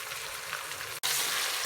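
Chicken biryani meat frying in a pot as it is stirred, a continuous loud sizzle with a brief dropout midway, close up and without voices.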